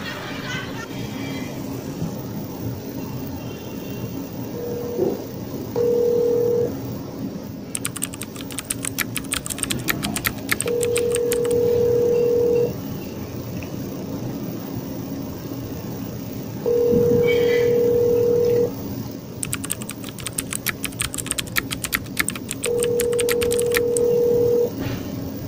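A telephone call is dialed and rings out, with repeated long ringback tones and bursts of key presses spaced through a stretch of room noise.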